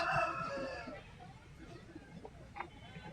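Chickens at a rural poultry market, a rooster crow at the start followed by scattered faint clucks amid quiet market murmur and a nearby voice.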